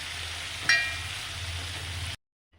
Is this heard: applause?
no